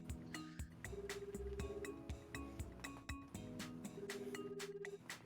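A telephone rings in the visual novel Fate/Hollow Ataraxia, a short repeating electronic ring tone over soft game music, heard twice in a quiet, rhythmic pattern.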